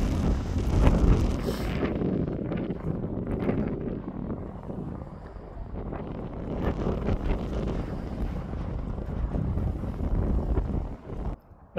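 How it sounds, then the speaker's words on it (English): Strong outdoor wind buffets a phone microphone, rumbling and roaring in uneven gusts for the whole stretch, dropping briefly near the end. "Oh my god, that wind."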